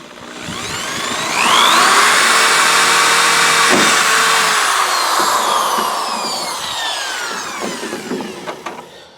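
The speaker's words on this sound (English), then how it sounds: "So I'm just get the hole drilled and I'll show you why." A power drill bores straight through a wooden board for a chicken coop, a loud rising motor whine that holds steady while cutting, then winds down with a few clicks and knocks at the end.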